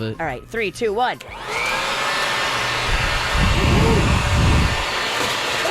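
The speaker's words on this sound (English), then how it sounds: "can I just hit the counter with the leaf blower again?" A leaf blower blasts cinnamon sugar off a kitchen counter: after a quick spoken countdown comes a loud, sustained roaring rush of air, with voices rising and falling over it.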